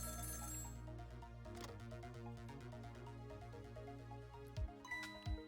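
A telephone rings in the Ghost Trick: Phantom Detective game, its electronic bell trilling in repeated rapid bursts at a soft level, followed near the end by a couple of low thuds.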